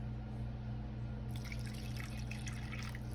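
Water poured into a pan of beef neck bones, a soft trickle and drip that starts partway in over a low steady hum.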